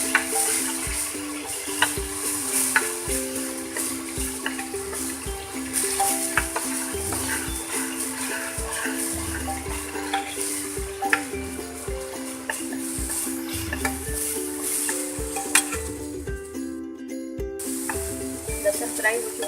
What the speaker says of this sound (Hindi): इसमें हम लहसुन डाल देंगे, 1 चम्मच भर के लहसुन डाल दिया। इसे थोड़ा सा फ्राई करेंगे।